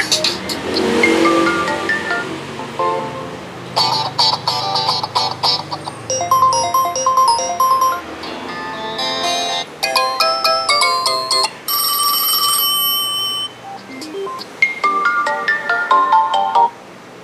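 Ringtone melodies from an Infinix Note 11 NFC phone's dual speakers play loudly in a shop, several different tones switching one after another over about seventeen seconds with short gaps between them, no talk.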